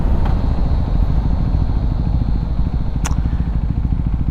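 Husqvarna Svartpilen 401 motorcycle fitted with a FuelX Lite module, its single-cylinder engine running steadily and loud throughout with a continuous throbbing rumble, plus a brief sharp click near the end.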